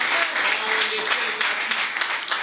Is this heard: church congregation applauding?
yes